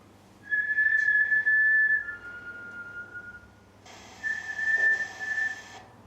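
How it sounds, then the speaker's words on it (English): A clear, steady whistle sounds inside a church during a ghost hunt, a sustained tone held for about a second and a half, then lower, before a second louder whistle with a hissy edge. "we were already getting little whistles in there"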